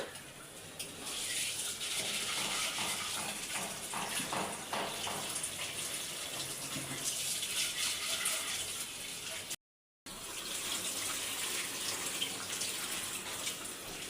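Flattened rice (chira) being rinsed and washed by hand in water in a home kitchen, a steady close sloshing and trickling with scattered clinks, continuous apart from a brief cut near the end.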